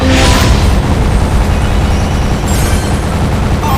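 A loud, sustained booming burst from a fish-shooting casino video game, with a dense low rumble that holds steady for about four seconds and no talking.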